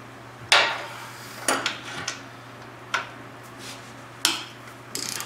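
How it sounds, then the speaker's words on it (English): A ratchet turns a bolt on a Ford Bronco II, giving a handful of sharp metallic clicks and short bursts spread unevenly over a few seconds, close by, against a low steady hum. "Guess I'm gonna have to go with a ratchet."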